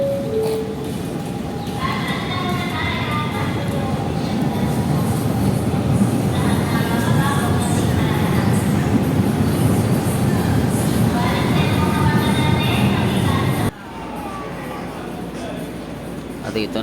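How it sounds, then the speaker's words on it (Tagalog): An LRT train pulls into Baclaran Station in the early morning, a loud sustained rumble with rattling and squealing wheels for over ten seconds, then dropping to a quieter hum. "may lang dumating na yung LRT na sasakyan"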